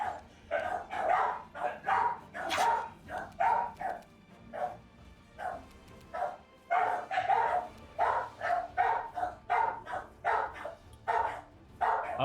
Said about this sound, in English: I think they're just barking right now.